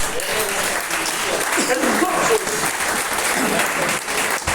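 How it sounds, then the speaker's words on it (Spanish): A church congregation applauds at a Spanish-language worship service, loud sustained clapping from a packed room with mixed voices and shouts running through it. "Denle un aplauso fuerte a mi Dios."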